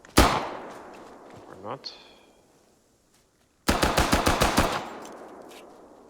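ArmA 3 gunfire: a loud single shot, a few scattered pops, then a rapid close burst of about eight automatic rounds, with brief talk in between.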